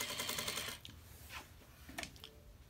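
Juki DDL-8700 industrial sewing machine, motor driving a belt under the table and worked by a foot pedal, stitches in a brief rapid burst before falling quiet, followed by a few faint clicks and handling noises.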